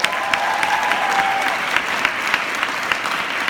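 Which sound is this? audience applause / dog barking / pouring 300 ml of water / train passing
audience applause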